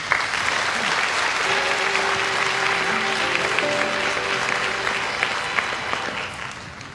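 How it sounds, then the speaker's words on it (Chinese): Audience applause welcoming a speaker to the stage at a lecture, sustained dense clapping from a large crowd, loud and close, with faint tonal sounds mixed in and tapering off near the end. "请掌声欢迎"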